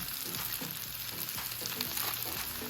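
Philly cheesesteak filling for flatbread sizzles on a flat top grill, a steady, close crackle and hiss with no talk.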